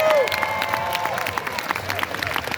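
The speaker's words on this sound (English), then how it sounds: "Give Jason a huge round of applause." An audience applauds for Jason at a live music performance, a brief burst of clapping mixed with cheers and crowd noise.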